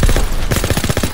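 Rapid machine gun fire from a hayloft emplacement in the World War II shooter Call of Duty: WWII, a dense run of loud, close bursts repeating in a fast steady rhythm with no talk.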